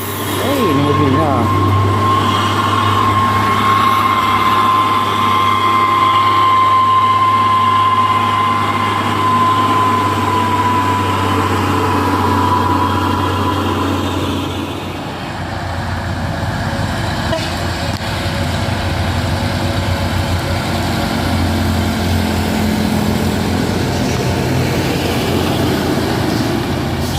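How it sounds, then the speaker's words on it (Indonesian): A tronton intercooler truck idles and rumbles nearby on a hillside road, a steady low engine drone with a whining tone that fades after the middle as traffic noise shifts. "Ya, ini truk intercooler tronton"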